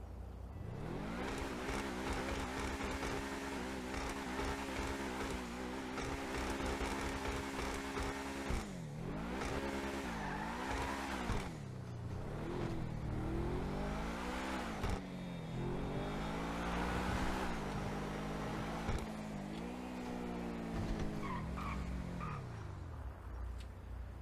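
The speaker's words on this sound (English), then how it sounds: "Let's take a listen to this car." A Truffade Thrax car engine in GTA Online revving up and down repeatedly, pitch rising and falling through gear changes, loud and steady with no talking.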